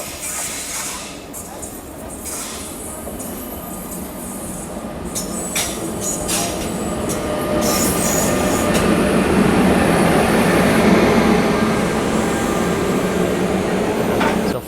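Interior rumble of an Amrit Bharat Express general compartment, a steady low roar of the moving train that grows slightly louder partway through, with faint knocks and rattles of the coach.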